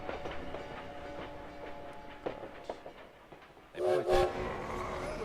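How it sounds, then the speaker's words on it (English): A train at a Paris train depot in the video game Valiant Hearts rumbles and clatters steadily, then a loud horn or whistle blast rings out near the end, with no talking. "At the train depot in Paris"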